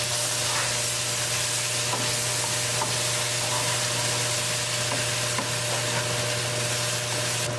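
A spoon stirs meatball curry with tomato sauce in a pan, giving a constant close sizzle with scattered scraping and stirring clicks over a steady hum, with no one speaking.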